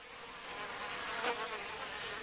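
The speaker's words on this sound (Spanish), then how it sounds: "A partir de ahora, las avispas sin razón son indiferentes a su presencia." A steady hum of buzzing wasps fills the jungle air, one insect swelling briefly louder as it passes near, the rest a faint constant drone with no voices.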